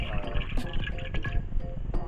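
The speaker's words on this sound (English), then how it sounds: "I'm going to pour about half of the broth into this" Beef broth pours into a crock pot with a steady liquid splashing and gurgling, continuous and close for about two seconds.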